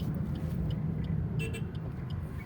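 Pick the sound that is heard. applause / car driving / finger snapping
car driving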